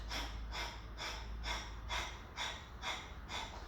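Rapid, rhythmic Breath of Fire breathing through the nose with the mouth closed, about two sharp, forceful exhalations per second, close and steady, with no talking.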